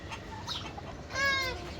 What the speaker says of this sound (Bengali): এখানে আমার সিল্কি মুরগিগুলো আছে দেখতে পাচ্ছেন কত সুন্দর সিল্কি মুরগিগুলো